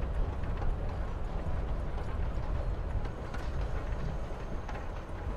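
Steady rumbling clatter of a moving train in the video game Life Is Strange, a continuous mid-level rolling noise with a faint rhythmic clack throughout.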